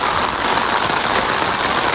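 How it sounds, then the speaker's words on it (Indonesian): Steady, dense rainfall in Yufuin village, Japan, a loud, even hiss of drops spreading across the whole spectrum without pause or variation. "suaranya emang berisik sih, hujan."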